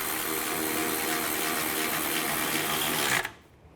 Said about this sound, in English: Tighten those bolts down.